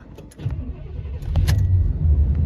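A 1993 Chevrolet Suburban with a 350 5.7-litre V8 cranks and fires up nearby, a brief rattle of keys before the low engine rumble swells and settles into a steady, loud idle.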